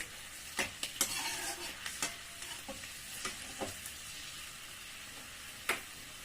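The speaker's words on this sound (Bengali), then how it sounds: "আমি একটু বাদাম একটু ভেজে এর মধ্যে দিচ্ছি, আরো টেস্ট হবে খেতে" Peanuts frying in a pan and being stirred into a mixture for a crispy snack, a soft sizzle under irregular scraping stirs with a sharp clack near the end, close and moderately quiet, no talking.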